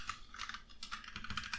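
Steady typing on a computer keyboard during coding: rapid, close clicking keystrokes in an irregular stream, quiet and continuous, with no talk over it.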